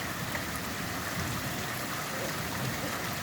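Steady rain falling outdoors during a thunderstorm, a dense, even hiss of drops on surfaces that stays constant and moderately faint, with no voices or distinct thunder.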